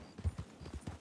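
A horse's hooves clip-clop in a quick, rhythmic series of soft thuds during a video game roleplay set around Blackwater, brief and moderately quiet.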